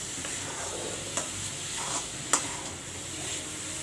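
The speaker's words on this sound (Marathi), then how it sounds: "मी आता याला दोन मिनटं गॅस चालू करून मिक्स करून घेणार आहे" A spoon stirs besan ladoo mixture in a pan over a gas flame, giving a soft continuous scraping with a faint sizzle and a few light clinks against the pan, close and quiet with no talk.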